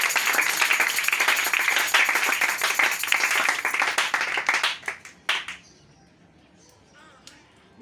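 Congregation applause fills a church service, dense rapid clapping from many hands that stays steady for several seconds, then thins into a few scattered claps and fades to near quiet.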